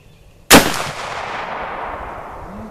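A Traditions Vortek Northwest strikerfire muzzleloader fires a 300 grain full bore bullet in one loud, close shot that leaves a long, fading reverberant tail, with no talking.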